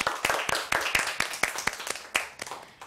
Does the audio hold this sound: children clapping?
yes